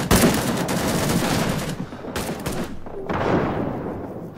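Gunfire rattles in the Vietnam-era shooter Rising Storm 2: Vietnam, including sniper shots. Loud, dense volleys and bursts run almost continuously, with short breaks between the heavier clusters.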